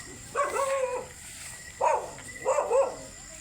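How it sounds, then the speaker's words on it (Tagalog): A dog gives three barking, howling calls close by, with short pauses between them. "Merong aso dito guys."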